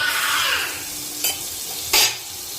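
Butter sizzling and frying in a hot kadai, a steady close hiss with a couple of brief clinks from a utensil against the pan.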